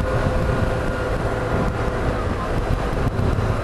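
Steady engine drone from a BMW R 1150 GSA motorcycle cruising in sixth gear, continuous and fairly loud with wind rush over the microphone and no talking.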